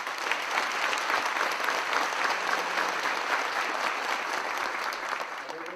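A live audience applauds a contestant at a football presentation event, a dense, steady wash of clapping hands that holds at an even, fairly loud level throughout.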